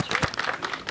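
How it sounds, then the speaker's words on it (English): A brief burst of audience applause, a dense wash of clapping from a crowd at a podcast talk, fairly close and steady with no voices over it. "can get a round of applause for her, please"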